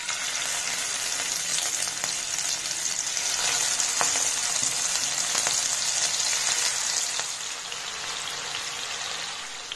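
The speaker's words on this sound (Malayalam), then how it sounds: "ഇനി നമുക്ക് ഈ സെയിം എണ്ണയിലേക്ക് തന്നെ നമ്മൾ നേരത്തെ മാരിനേറ്റ് ചെയ്ത് വെച്ചിരിക്കുന്ന പ്രോൺസ് ഉണ്ടല്ലോ" Marinated prawns fry in hot oil for a Thalassery prawn dum biryani, a loud, even, close sizzle with faint crackles that holds steady and eases slightly at the end, with no talk.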